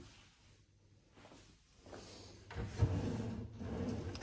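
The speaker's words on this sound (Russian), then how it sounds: "Скрытый ящик блюмовский." Concealed Blum-fitted drawer in a custom kitchen slides open and shut with a soft wooden rub and muffled thump, moderately close, with a quiet room tone and no talk.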